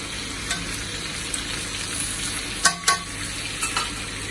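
Pork belly pieces frying in hot oil for Chinese braised pork, a steady close sizzle and crackle with a few sharp pops and spatters.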